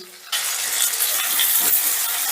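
Vegetables for mixed fried rice hit hot oil and burst into a loud, steady sizzle after a brief quiet start, hissing continuously up close as they are stir-fried.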